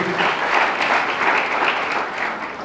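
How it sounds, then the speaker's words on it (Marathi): Loud applause from the audience at a state-level college debate competition honoring DK Gaikwad, a thick continuous roar of clapping hands that holds steady, then eases slightly toward the end. "एकदा जोरदार टाळ्या वाजवा त्यांच्यासाठी"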